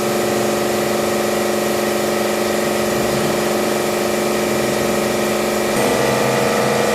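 A steam engine drives machinery at a Martinique cane juice distillery, a steady mechanical hum with a constant pumping drone throughout, its tone dipping briefly near the end.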